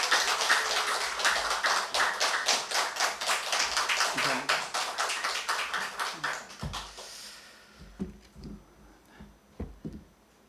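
Applause in a church congregation at a Wednesday worship service welcoming a missionary: rhythmic, fairly loud clapping that gradually slows and fades, giving way to scattered quiet taps and light rustling near the end.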